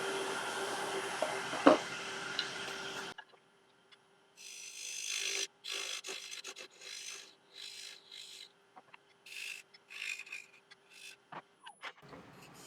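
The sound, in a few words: wood lathe cutting a recess in African mahogany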